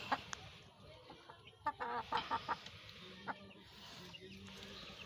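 Laying hens of a native breed cluck in short, irregular bursts, a cluster of close calls in the middle with scattered quieter clucks before and after, over a faint outdoor background.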